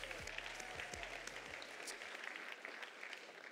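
A crowd at an awards show applauds the evening's winners, a sustained even roar of clapping with a low thumping beat underneath for the first two seconds before the clapping carries on alone.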